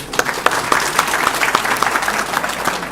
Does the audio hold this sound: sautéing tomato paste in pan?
no